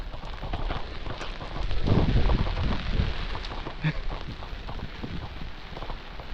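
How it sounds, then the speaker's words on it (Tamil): Steady rain falls at a hill station in Munnar, a dense continuous patter that swells briefly then settles back to an even hiss. "நான் ஸ்டாப்பாக மழை பெஞ்சிக்கிட்டு இருக்கு."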